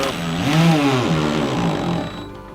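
A power drill whirs loudly up close, its motor pitch rising and wavering as it drives a screw into a pre-drilled hole while building a greenhouse, then spinning down at the end.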